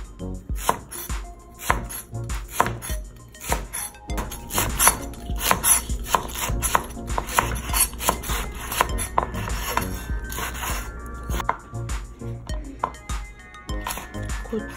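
A knife slices vegetables on the diagonal on a cutting board for spicy Korean sausage stew (budae jjigae), making rapid, rhythmic, close chopping knocks that continue throughout.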